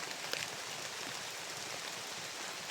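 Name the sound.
rain falling on a roof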